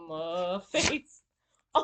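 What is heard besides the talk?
child sneezing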